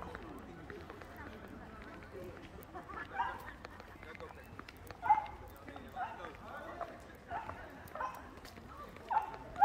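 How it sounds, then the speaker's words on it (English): A dog barks in short intermittent bursts near Highcliffe Castle, fairly faint and partly under people talking nearby. "Shut up, dog."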